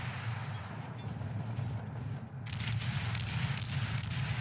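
Heavy warship guns booming in World of Warships, a steady low rumble of naval artillery with repeated muffled firing and a sharper burst of blasts midway, no talking.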